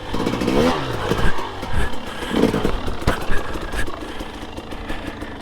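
A KTM 300 XC-W TPI two-stroke dirt bike engine runs close by, its steady buzzing note rising briefly in revs a couple of times, with no talking over it.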